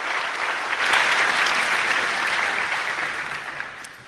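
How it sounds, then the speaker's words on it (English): Sustained, close audience applause at a conference as speakers are welcomed to a Nintendo DS presentation, steady throughout and easing off in the final half-second. "Can I get a round of applause?"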